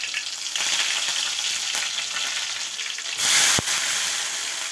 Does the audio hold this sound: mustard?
yes